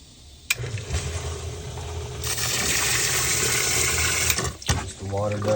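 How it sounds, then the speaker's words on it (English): A sump pump discharging water gushes loudly after a sharp click, a steady broadband rush that swells and holds for several seconds before cutting off, with someone speaking briefly near the start and end. "I'm testing out the sump pump right now."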